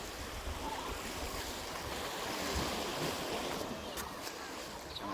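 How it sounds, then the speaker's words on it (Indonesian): Steady surf and wind at Ulee Lheu beach in Banda Aceh, a continuous broad wash of waves with gusty wind noise on the microphone and no clear talk. "pantai di kota Banda Aceh, Pantai Cermin"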